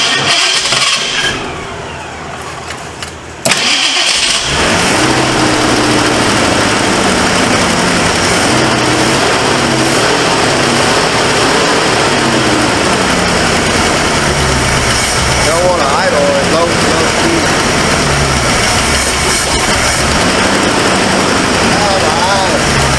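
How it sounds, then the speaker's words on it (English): A worn 1978 Ford Mustang II engine cranks and churns after a brief quiet start, then runs as a loud, dense, rough mechanical roar close by for the rest of the stretch. "let's see what it crank"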